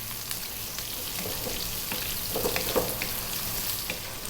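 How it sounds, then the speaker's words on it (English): A cup of chopped onion frying in oil for egg curry, a steady soft sizzle with occasional scrapes of stirring, fairly quiet and without talk. "Then we're going to add that cup of onion, and we're going to go for 4 minutes, and I'll be stirring fairly often."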